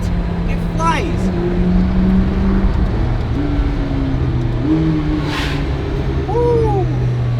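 Inside a McLaren P1 sports car, the engine drones loudly and steadily as it accelerates, with tones rising and shifting through gear changes while a voice talks over the cabin noise.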